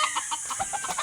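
A father's backyard chickens, mixed breeds, cluck in a quick series of short calls, close and clear above a constant hiss, with no one speaking.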